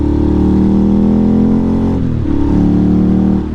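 A Ducati Monster motorcycle engine runs loud and close with a deep, steady harmonic drone, briefly dipping in pitch midway before settling back into a throaty hum.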